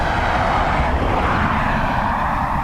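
A British Airways airliner rolls for takeoff at Dublin Airport, its engines giving a loud, steady broadband roar that holds unbroken throughout, with no voices over it.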